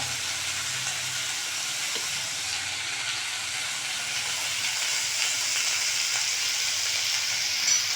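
Sambar ingredients for Udupi-style sambar sauté in a pan with a steady, close sizzle and steamy hiss that holds evenly throughout, with no voices.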